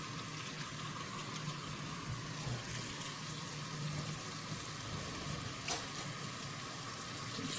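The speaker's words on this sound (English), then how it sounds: "if you want to just run some cold water over them is what I usually do" Cold tap water runs steadily over dried beans in a colander, a close, continuous hissing splash with one brief clatter near the end.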